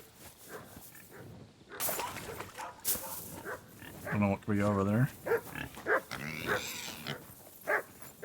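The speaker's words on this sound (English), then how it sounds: "My dumb dog's going off." A dog barks and growls in Kingdom Come: Deliverance II, a series of loud rough barks close by, mixed with someone talking over it.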